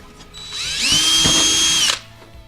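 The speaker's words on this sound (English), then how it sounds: "I'm going to take a 3/32 drill bit, put it right here in the middle on my mark" A power drill fitted with a 3/32 bit, working on the interior of a Fox-body Ford Mustang, spins up and whines steadily for about a second before stopping, close and alone with no talking.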